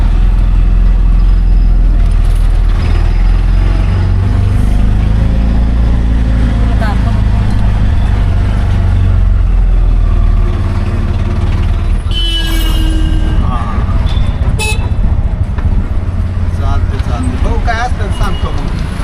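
Busy street traffic at a market, with a constant loud rumble of passing vehicles and engines close by, horn-like tones rising briefly, and people talking over it.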